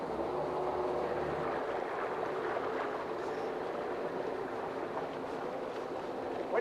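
A fishing boat's engine runs in gear out on the water in the North West, a steady low drone mixed with water wash and wind, fairly faint and continuous.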